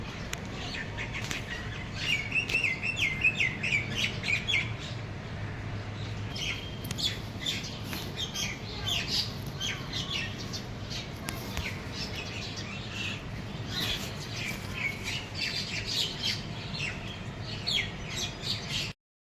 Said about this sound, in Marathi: त्या झाडावर खूप सारे वेगवेगळ्या प्रकारचे पक्षी येऊन बसतात. त्यांचा खूप किलबिलाट चालू असतो सकाळ सकाळी